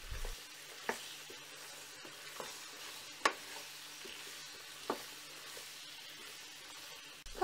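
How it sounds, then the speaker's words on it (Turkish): Colored peppers sizzle in a hot pan with potatoes and chicken, a steady frying hiss broken by a few soft scrapes and taps of stirring, fairly quiet and close. "Biberleri ilave ettikten sonra biberleri de şöyle bir hemen yaklaşık yarım dakika kadar karıştırıyoruz."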